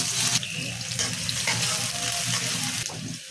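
Chopped onion hits a hot pan for a shrimp and long-bean curry, giving a loud, steady sizzle with faint stirring scrapes throughout.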